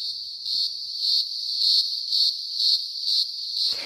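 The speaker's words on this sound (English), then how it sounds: "the main way we relate to cicadas is via their sound" Australian cicadas call with a loud, steady high-pitched buzz that pulses in a regular throbbing rhythm, continuous and close, ending with a brief rustle.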